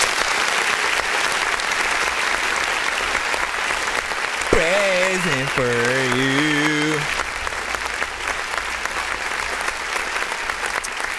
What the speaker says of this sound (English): let me go ahead and just clap.